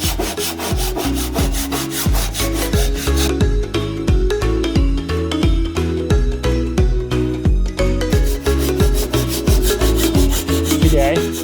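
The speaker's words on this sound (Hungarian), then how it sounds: "le fogom vágni ezeket a síkokat mind a 4 sarkánál" A hand saw cutting the corners off a wooden Christmas tree, steady back-and-forth rasping strokes in a regular rhythm, loud and close throughout with no talk.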